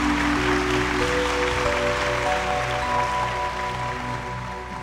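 An audience claps to welcome a singer on a Bhojpuri music stage show. Dense, steady applause runs throughout, layered over sustained musical tones.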